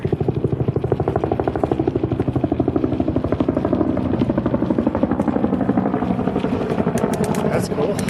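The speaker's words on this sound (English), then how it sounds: "helicopter" A helicopter passes overhead along the Tour Divide bikepacking route, its loud, steady rotor thumping close and continuous throughout, with faint wind and rustle underneath.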